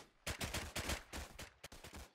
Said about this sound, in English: Oh, taking fire here.